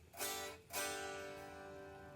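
Two quick strums on an unplugged Westcreek electric guitar, fairly quiet, with the second chord left ringing and slowly fading.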